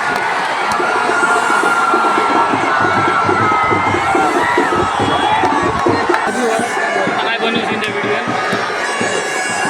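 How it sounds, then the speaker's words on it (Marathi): A large festival crowd at the Raibadevi yatra in Maharashtra cheering and shouting, a loud dense roar of many voices including children, sustained throughout and heard close amid the throng. "जल्लोष बघा जल्लोष"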